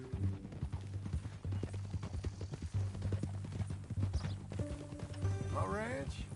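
Horse hooves clip-clop steadily in Red Dead Redemption 2, a rhythmic run of close hoofbeats over a low droning background, with a brief whinny-like sweep near the end.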